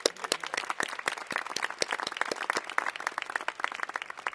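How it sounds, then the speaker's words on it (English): Audience at a 2011 community college commencement ceremony claps for a graduate speaker, a fairly sparse, crisp patter of individual hand claps at moderate distance, steady for several seconds with no talking. "Let's give her another round of applause"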